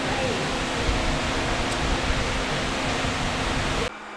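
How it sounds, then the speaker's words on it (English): A steady, loud broadband roar like a vacuum cleaner running nearby, continuous throughout and dropping off abruptly near the end. "my vacuum cleaner is going, so that's what that noise is"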